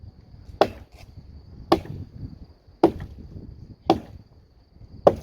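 An axe chops into a thick felled tree trunk, striking alternately from one side and then the other: five sharp, evenly spaced thwacks about a second apart, close and loud over faint insect chirping outdoors.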